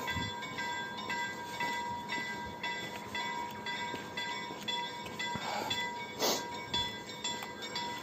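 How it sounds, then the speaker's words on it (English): A passing train with rumbling rail cars and a sustained horn blast, heard outdoors during a live street stream, loud and steady for several seconds with a brief sharp burst near the end. "Oh, a train."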